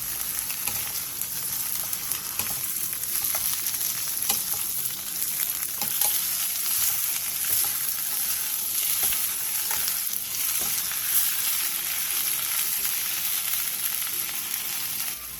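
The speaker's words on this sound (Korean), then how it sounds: "팬에 기름을 두른 뒤 씻은 묵은지를 넣고 중불에서 5분 정도 볶아주세요." Rinsed aged kimchi stir-fries in oil in a pan over medium heat, a continuous even hiss of sizzling heard up close for the whole stretch, with faint occasional ticks and no speech.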